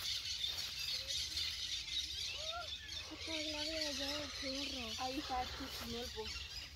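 Parakeets squawk and chirp in short rising bursts over a steady rush of background noise, several calls overlapping at moderate distance.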